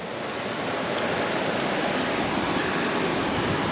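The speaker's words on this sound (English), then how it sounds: "There's the river." A strongly flowing river in Paintbrush Canyon in the Grand Tetons rushes loudly and continuously, a dense, steady roar of water heard alone without voices.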